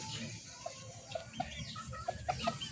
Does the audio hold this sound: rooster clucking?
yes